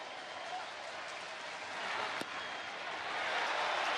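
Baseball stadium crowd at a Rangers vs Orioles game rising to its feet, a steady roar of cheering and clapping that swells toward the end, with a brief sharp crack partway through.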